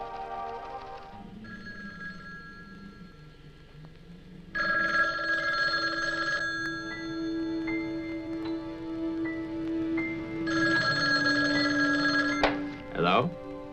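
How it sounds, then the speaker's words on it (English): A telephone bell rings in two loud bursts separated by a pause, in a house at night, with low room noise between the rings and a brief clatter as the receiver is picked up at the end. "How about that telephone up at the Butler house? Is it working? Well, try it now."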